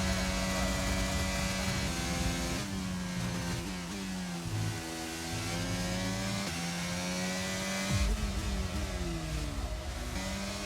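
An Alpine racing car on a qualifying lap, its engine droning loud and continuous with rising and falling pitch as it shifts gears through corners, with no voices over it.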